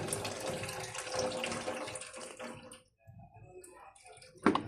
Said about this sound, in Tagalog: so buhos lang po natin itong tubig